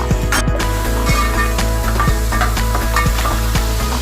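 Ginger garlic paste sizzles loudly and steadily in fresh hot oil, a close, dense crackle with faint regular ticking from the pan.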